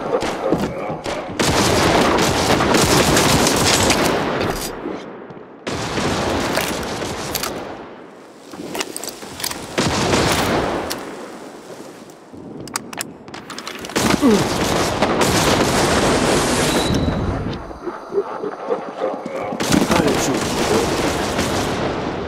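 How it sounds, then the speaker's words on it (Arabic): Gunfire and grenade blasts in the World War Heroes video game on a Finland map firefight, dense bursts of rapid shots and booms in several loud clusters separated by brief lulls. "احتمي يا تشوب، سأرمي قنبلة يدوية"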